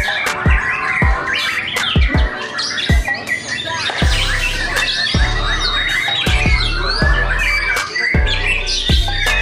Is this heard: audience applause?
no